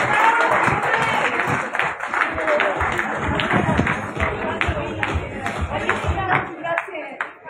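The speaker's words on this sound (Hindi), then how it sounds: "एक बार जोरदार तालियां होनी चाहिए" Loud, close applause at an International Women's Day celebration in a Mount Abu hotel, honouring a yoga teacher; vigorous clapping mixed with crowd babble and some talking, rising and falling in bursts.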